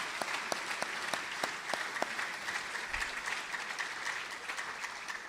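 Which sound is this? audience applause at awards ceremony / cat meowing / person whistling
audience applause at awards ceremony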